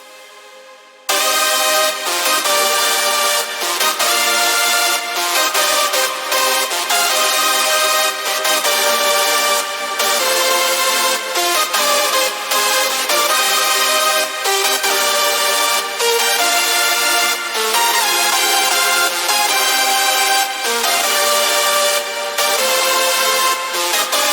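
A loud, dense hardstyle track with pounding kicks and thick distorted synths, washed in sidechained reverb and delay, playing continuously after a brief quiet start.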